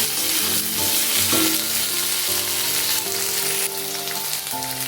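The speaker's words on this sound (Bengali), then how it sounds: "আলুর সাথে পেঁয়াজটা ভেজে নেব" Potatoes and chopped onion fry in a pan for a Bengali-style fish curry, giving a loud, steady sizzle throughout, with occasional clinks and scrapes of stirring and no talking.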